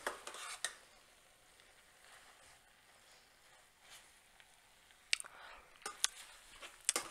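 Pad Thai with sprouts, green onions and vegetables being tossed in a pan, faint soft stirring with a few sharp utensil clinks against the pan, quiet and close.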